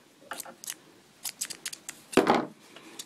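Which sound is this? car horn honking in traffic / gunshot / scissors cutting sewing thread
scissors cutting sewing thread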